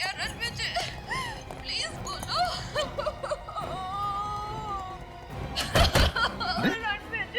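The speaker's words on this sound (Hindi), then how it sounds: "हाँ सर, ये तो रोने की आवाज है।" A person cries in a crime drama scene, with wavering sobbing wails rising and falling amid other voices and a burst of noise near the end.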